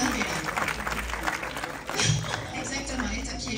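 An audience at a Dakar series festival event applauds, a dense crackle of clapping running throughout with voices mixed in.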